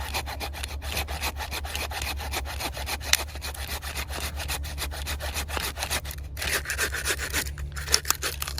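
A handsaw rasps through crepe myrtle branches in quick, steady back-and-forth strokes, close and continuous, with no talking.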